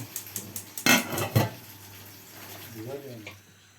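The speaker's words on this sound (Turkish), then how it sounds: "Bulaşıklarımızı da topladık." Dishes and pots clatter in a home kitchen as they are gathered up after a meal, with two sharp clanks close by early on, then softer rattling under a voice.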